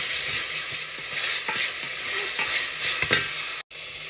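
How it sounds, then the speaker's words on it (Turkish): Onions are sautéed with meat in a hot pan. A dense, steady sizzle fills the clip, with soft stirring scrapes every so often and a sudden brief cutout near the end, close and without speech. "Şimdi içine soğanımızı atalım. Biraz soğanı kavuralım."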